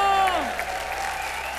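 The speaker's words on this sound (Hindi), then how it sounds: "जोरदार तालियों से इनका स्वागत कीजिए।" A studio audience on a comedy game show stage welcomes guests with applause, a brief burst of clapping and crowd noise that fades quickly while musical tones sweep across it.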